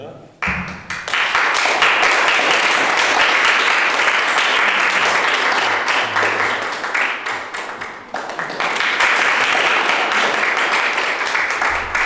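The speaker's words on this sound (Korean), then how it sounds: "우리 박수로 환영해 주시겠습니다" A church congregation applauds during a Sunday service to welcome a newly baptized young member receiving a certificate and Bible, long loud clapping that dips briefly midway, then resumes, with some talk underneath.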